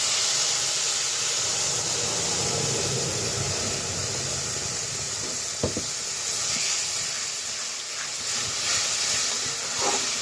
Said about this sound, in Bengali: ফোড়নটা কড়া হয়ে গেছে, তো এর মধ্যে দিয়ে দেব তো টমেটোর পেস্ট